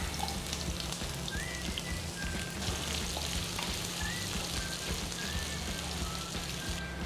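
Garlic and onion sautéing in a pan give a steady, faint, close sizzle and crackle, continuous throughout with no talking.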